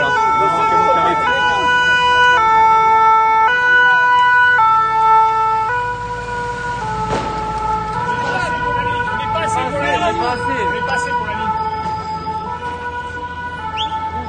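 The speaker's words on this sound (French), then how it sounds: "Donc voilà, les pompiers sont enfin arrivés." A fire engine siren wails through a violent May Day riot in Paris, its loud two-tone cycling close at first and then continuing over traffic rumble and crowd noise.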